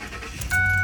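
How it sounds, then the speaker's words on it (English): A Ford truck engine turns over and catches at the end, its low rumble rising suddenly and settling into a steady idle after a brief stretch of quieter mechanical noise, with clicks and a faint electronic tone. "Restart the truck."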